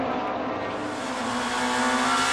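Touring cars from the 1994 Touring Car World Cup race past, including a BMW, an Audi and an Alfa Romeo, in a steady, loud engine roar with high revving whine that swells slightly toward the end.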